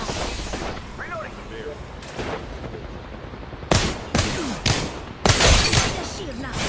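Fortnite gunfire comes as several sharp, loud bursts in the second half after quieter in-game noise, with voices talking over the action.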